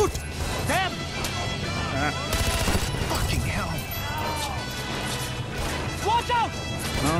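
Gunfire in the video game Far Cry 4, a dense barrage of loud shots and crashing impacts going on the whole time, with game voices and chirping sounds mixed in.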